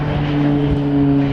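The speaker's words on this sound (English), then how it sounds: "You can put the propellers into what's known as beta range." Beech B200 King Air turboprop at an airshow, its propellers in beta range during a steep approach to land: a steady, loud droning hum with a sustained tonal whine, continuous and without speech.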